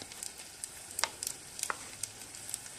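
Potatoes coated in paste fry in hot oil, giving a quiet bed of sizzle with scattered sharp pops and crackles at irregular intervals.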